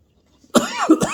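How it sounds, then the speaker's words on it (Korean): A single person coughs twice in close succession, near and fairly loud, after a moment of silence. "아이고 이렇게 기침 나요."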